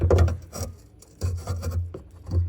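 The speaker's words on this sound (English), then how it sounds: "I'm just gonna try to push it out from this end with my screwdriver" A metal screwdriver scrapes and rubs against plastic while pushing a front headlight bulb out of its housing on a Peugeot, giving close, irregular rasping scratches with short pauses.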